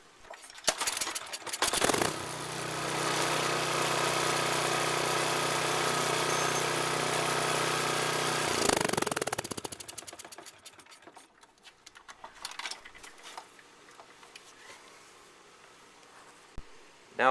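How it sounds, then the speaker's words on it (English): A Briggs & Stratton 175cc Ready Start small engine, repaired after a fault, catches and runs at a steady loud idle for several seconds, then cuts out, leaving quiet handling noises. "I'll now show you that when this is closed that the engine will start."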